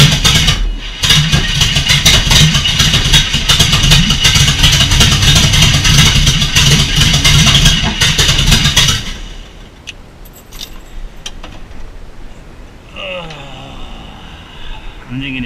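Chevy 350 V8 with open headers, fitted in a Datsun 240Z, fires up and revs loudly and roughly for about eight seconds at close range, then cuts off, leaving quieter rattling and a brief voice.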